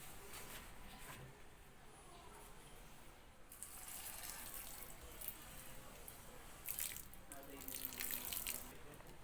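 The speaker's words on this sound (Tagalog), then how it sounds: "Ngayon, lalagyan natin siya muli ng kaunting tubig." Small amount of water poured onto a homemade compost project, a faint soft trickle and splash, quiet and close, with a few brief louder splashy bursts toward the end.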